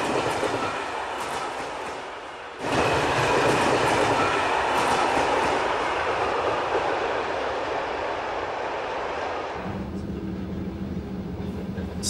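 A train on the western Baikal-Amur Mainline in Russia rolls along the rails with a loud, steady rumble and rhythmic rattling, briefly quieter at first, then a low hum joins near the end.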